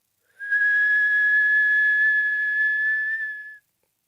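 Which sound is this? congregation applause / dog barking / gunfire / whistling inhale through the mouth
whistling inhale through the mouth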